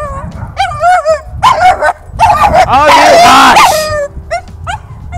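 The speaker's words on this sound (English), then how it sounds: "And enjoy the dogs barking." Several dogs bark, yip and whimper close by in bursts with varied pitch, while a person's voice exclaims among them.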